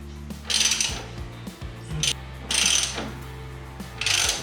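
A reamer cutting metal inside a Harley-Davidson Shovelhead engine, three bursts of bright scraping grind as the tool turns, with ratcheting mechanical clicks and low hum between strokes.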